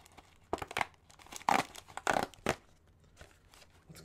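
A snack package being torn open: several loud crinkling, ripping bursts of plastic wrapper spaced over a few seconds, close up, with quieter rustling between them and no speech.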